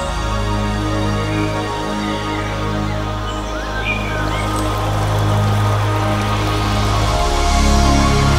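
Birds sing in the Garajonay laurel forest on La Gomera, with scattered faint chirps and calls over a steady, loud background wash and low hum throughout.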